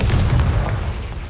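A Confringo fire spell exploding in the game Hogwarts Legacy: a loud, dense, low burst and rumble filling the whole short moment, with no talking over it.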